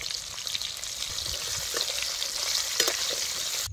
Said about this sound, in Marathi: आता एक कांदा त्यात टाकायचा. अर्धा चमचा हळद बी टाकते.